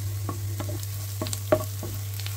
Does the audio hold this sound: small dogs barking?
no